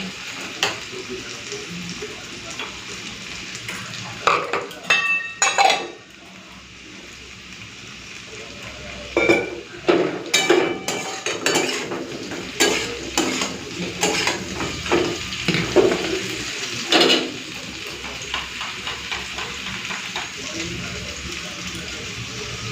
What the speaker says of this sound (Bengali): একটুখানি জলের মধ্যে দিয়ে গুলিয়ে নেবো।